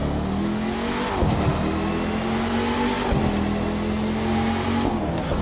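A supercharged car engine in the video game The Crew 2 revs up repeatedly, its whine rising in pitch between short gear-shift dips, loud and steady with no talking.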